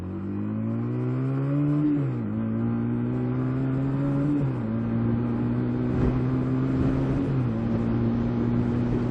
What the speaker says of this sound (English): Did not see that car there